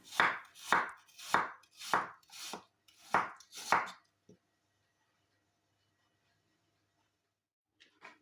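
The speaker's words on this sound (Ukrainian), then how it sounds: "Яблука нарізаю тонкими скибками." Knife slices apples into thin slices, six or seven steady crisp chops in a quick rhythm, close and clear, then quiet with a faint clatter near the end.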